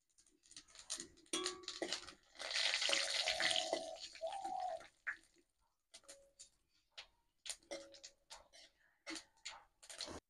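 Whole cumin seeds drop into hot mustard oil in a wok already holding bay leaf and dried red chilli, giving a crackling, spitting sizzle that swells for a couple of seconds and then settles into scattered sharp pops, close and fairly quiet.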